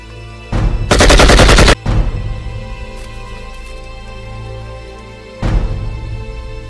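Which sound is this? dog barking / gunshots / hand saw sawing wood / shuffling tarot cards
gunshots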